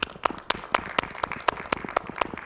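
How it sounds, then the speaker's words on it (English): A conference audience at a physics society awards session applauds new fellows with sparse, distinct claps in an uneven rhythm, close and fairly loud, as if only a handful of people are clapping. "can we have a round of applause for our new fellows?"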